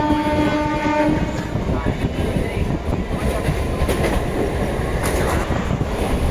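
A Howrah–Bardhaman galloping main line local train passes close near Uttarpara station, a horn sounding at the start over a loud continuous rumble and rattle.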